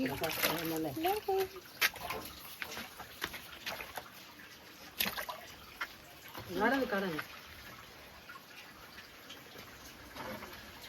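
Water sloshes, trickles and splashes while part of the water in a home fish tank is changed, close and fairly soft throughout, with people talking over it at several points.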